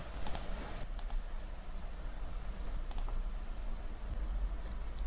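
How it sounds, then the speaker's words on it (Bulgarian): A computer mouse clicks a Download button, giving a few quick, sharp clicks in small clusters over a quiet room hum, with no talking. "кликам тук на синият бутон Download или изтегли"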